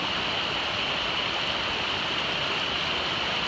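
Steady, loud rush of a river current flowing over rocks at a shallow crossing, a continuous broadband roar with no pauses and no voices.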